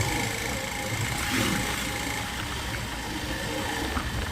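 A motorbike engine droning steadily while riding along a road through forest toward a village, a continuous mid-level hum with wind noise and no speech.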